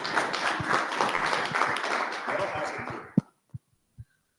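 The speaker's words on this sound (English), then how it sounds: "Can we get a round of applause?" Conference audience applauding steadily for about three seconds, dense clapping that fades out and leaves a few isolated claps at the end.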